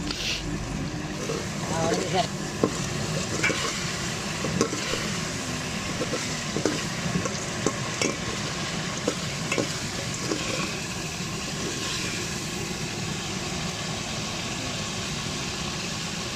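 Steady, close sizzling and crackling of chicken frying in hot ghee, continuous throughout with faint clinks and scraping.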